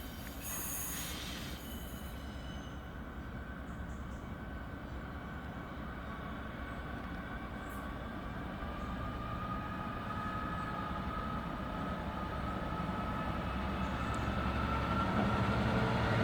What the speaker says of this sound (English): So this is our Freightliner working from Leeds Freightliner Terminal to Southampton.